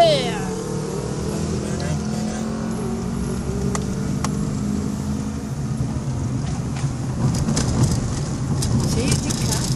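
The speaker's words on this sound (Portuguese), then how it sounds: "Cheio de carros." Steady road traffic rumbles from inside a car, with a continuous wash of engines and tyres and occasional passing vehicles, while people chat over it.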